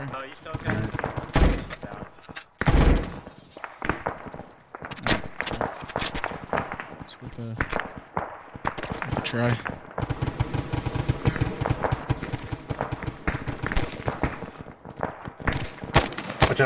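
Gunfire in Arma 3 during a raid on Tanoa: dense bursts of automatic and single shots, some close and loud, others more distant, continuing through the clip with people talking over it.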